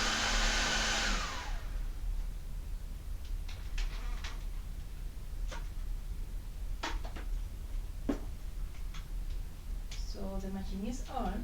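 A WeCreat Vista laser engraver, switched on to engrave a tumbler, gives a steady, close fan-like whoosh that starts loud and then settles into a constant hum, with scattered small clicks and handling knocks over it.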